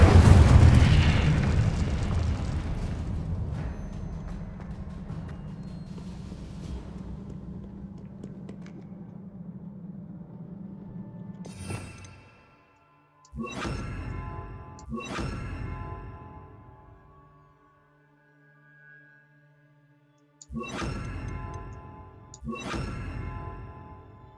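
Spell effects and explosions from the Hogwarts Legacy video game: a loud rumbling blast that fades slowly, then a series of sharp, ringing bursts spaced a few seconds apart, with no one talking.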